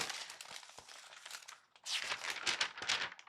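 A regular sheet of paper crinkled and handled up close, giving dense bursts of crisp rustling and crackling that pause briefly midway, then return louder and more agitated.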